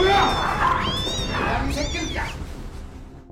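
A cat yowls and hisses in a sharp, snarling outburst as it attacks and scratches a man in a zombie film, several harsh cries close up that fade toward the end.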